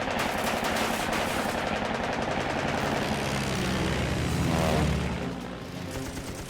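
Sustained rapid machine-gun burst from a WWII fighter aircraft in a dogfight, loud and continuous for several seconds over a droning engine, tapering off at the end.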